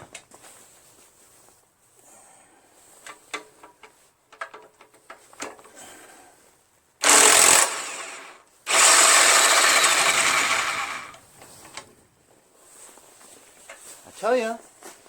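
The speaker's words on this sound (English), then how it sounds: "this Harborfreight Tools 1/2 inch electric impact is really cool" A Harbor Freight 1/2-inch electric impact wrench fires two loud, harsh hammering bursts, a short one followed by a longer one, while someone talks before and after and tools clink nearby.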